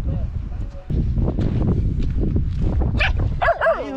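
Dogs on a mink hunt in the Stockholm archipelago give yipping barks and whines close by, with a louder yelp near the end, heard over rustling movement and wind outdoors.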